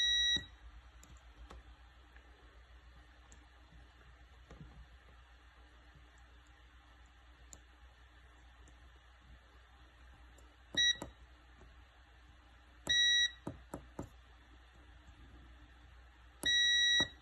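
A multimeter in continuity mode testing a Citroen C1 key fob with a broken button, giving a short beep near the start and then three more beeps later on, each a clear electronic tone over a quiet background.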